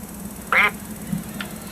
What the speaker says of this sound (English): What a talented duck.